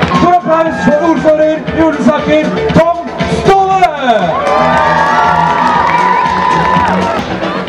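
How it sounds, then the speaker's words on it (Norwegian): Crowd cheering and whooping at an evening Olympic flame arrival event in Jessheim, loud and sustained throughout, with an announcer's amplified voice and some music mixed in. "Stor applaus for ordfører i Ulesaker, Tom Ståle!"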